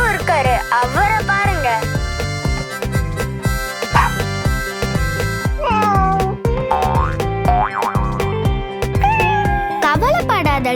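A cartoon kitten meows in a children's animated story about a picnic at home. Repeated high, expressive meows and sung or spoken voices run over a busy musical backing, loud and close.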